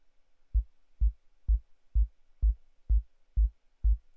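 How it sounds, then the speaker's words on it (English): Eight deep, steady low-frequency pulses of a sine wave gated by a kick drum in Ableton thump at an even rhythm, each a short bass swell, with near silence between them. "we can hear the sine wave coming back through again"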